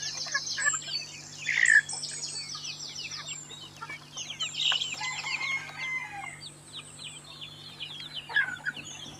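Chickens clucking and calling in a busy backyard poultry yard in Sangameshwar, Ratnagiri, with a rooster crowing and small birds chirping throughout, no voices.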